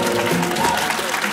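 Crowd applause at a fashion show, a dense, loud, continuous clapping close to the listener, filling the moment without pauses.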